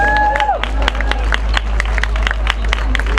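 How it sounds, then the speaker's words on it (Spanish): Crowd applause with sharp claps and cheering, loud and steady, at a breakdance battle final, accompanied by a whistle-like tone at the start. "Fuerte aplauso para ellos."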